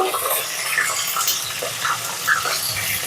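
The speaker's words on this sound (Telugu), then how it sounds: "వేడైనాక కొంచెం జీడిపప్పు కొంచెం పల్లీలు తిరుగుమాత గింజలు వేసుకొని వేయించుకోవాలి" Cashews and peanuts frying in hot oil for gongura pulihora crackle with a bright, busy sizzle, stirred in the pan, loud and close, with no voices over it.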